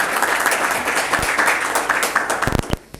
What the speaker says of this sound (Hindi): मैं चाहूँगा कि एक बार आप सभी अपने लिए ज़ोरदार तालियां बजाएं।